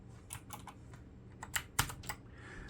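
Keys clack on a Keychron K8 wireless mechanical keyboard, about ten separate crisp presses in an uneven rhythm, close and fairly quiet, with one sharper, louder strike near the middle.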